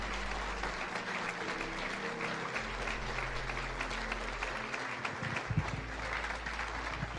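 Church congregation clapping strongly during a worship service, urged to applaud louder; a continuous wash of many hands with sustained keyboard chords beneath, no voices standing out.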